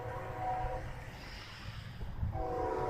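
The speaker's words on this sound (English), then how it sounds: "this is the busiest train track in Gary, Indiana" A BNSF Dash 8 locomotive hauling a container train on a busy line in Gary, Indiana sounds its horn in two loud sustained blasts over steady rail rumble, with no talking.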